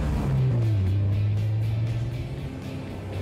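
A 2012 Honda CR-Z hybrid engine drones steadily while driving, a smooth low hum that rises slightly in pitch, then eases, heard from inside the car with no talk.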